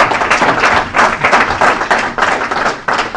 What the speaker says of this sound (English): So I'll ask you to give these guys a round of applause.